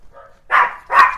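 Neighbors' dogs bark nearby: a faint whine followed by two sharp, loud barks in quick succession.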